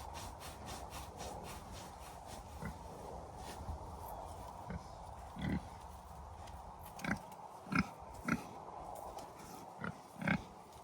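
A pig grunts and rubs while scratching and rooting, with a continuous rasping scrape like sawing against wood and several short low grunts scattered over it, moderately close on a farm with no talk.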